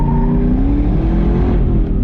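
A car drifts through a sweeping bend on a race track, engine roaring close and steady with shifting pitch as the tires slide.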